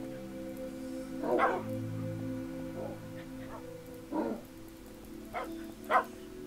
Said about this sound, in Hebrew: זה הכלב של השוטרים.